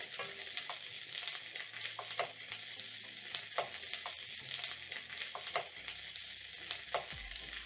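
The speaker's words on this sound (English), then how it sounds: "in the same cooking oil that I used to fry my sausages, I'm going to add in 1 medium onion that is sliced" Sliced onion, one medium onion, hits hot oil left from frying sausages and sizzles steadily, with the fry broken by periodic stirring scrapes and clinks close by.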